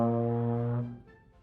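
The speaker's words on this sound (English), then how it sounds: "To make a sound with the trombone, we buzz our lips." A trombone sounds one sustained low brassy note produced by buzzing lips, steady and rich for under a second before cutting off into quiet room noise.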